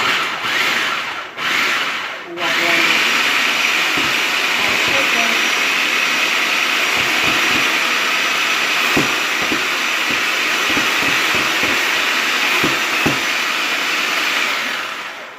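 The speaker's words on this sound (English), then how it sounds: "So I'm going to pulse some of these mushrooms first." A food processor pulsing mushrooms, loud whirring bursts at the start, then a long steady motor roar punctuated by clunks and knocks.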